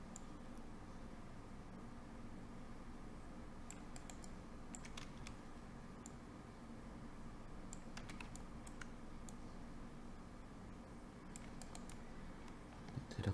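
A computer keyboard being typed on quietly, scattered key clicks in small bursts, including Ctrl+C and Ctrl+V shortcut presses, over a faint room hum with no talk.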